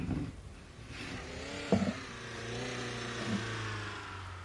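A car engine in the video game Pig Detective revs and hums at moderate volume, with a brief louder rise midway before settling into a steady drone.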